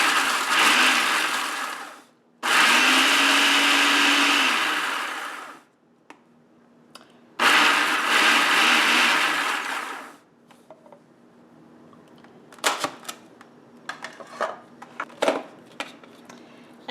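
A food processor or blender pulses vanilla wafers into coarse crumbs in two long loud whirring bursts, each a few seconds, then stops. Softer clinks and knocks follow as the bowl is handled. No voices.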